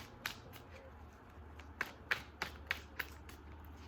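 Tarot cards being shuffled by hand, a quiet series of soft riffling taps and flicks spaced irregularly, close and faint with no voices.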